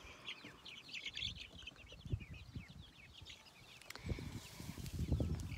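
Young chicks hatched by a broody hen on a small farm, faint high chirps and peeps scattered through the clip with soft clucks and low rustling mixed in, heard at a distance without voices.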